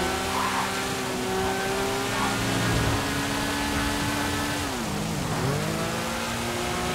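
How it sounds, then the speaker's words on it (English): A Deluxo flying car with machine guns in GTA V Online cruising along, its engine a steady mid-pitched drone that rises and dips with a brief swooping change in pitch near the end, continuous and fairly close. "Flying around in a car that's got machine guns. It's a DeLorean."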